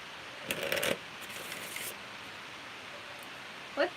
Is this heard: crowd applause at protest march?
no